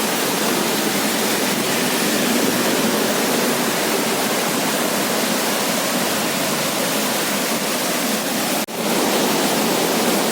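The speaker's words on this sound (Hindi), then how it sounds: "आपको एक झरना दिखाते हैं।" A monsoon waterfall beside the Haldwani to Nainital road roars with a loud, unbroken rush of falling water, close by and steady, briefly interrupted by a sharp knock near the end.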